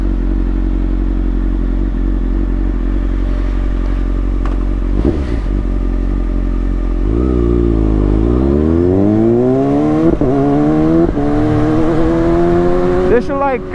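A Kawasaki ZX6R 636 motorcycle with a fresh tire idles loudly and steadily up close, then revs and climbs through rising engine pitch as it pulls away, accelerating hard with gear changes.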